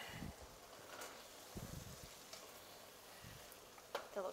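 Shrimp creole being stirred in a pan, giving faint, soft scraping and sizzling with a few brief louder scrapes, quiet and close with no talk.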